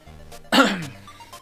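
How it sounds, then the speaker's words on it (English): A single sharp, harsh cough bursts out close and loud, followed by quieter breathy sounds and a faint brief tone. "Cough, cough."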